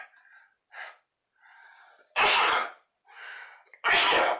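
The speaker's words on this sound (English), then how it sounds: "That's a heck of a sneeze there." A person sneezes twice, each loud burst preceded by sharp gasping inhales, with quieter breathy sounds between them.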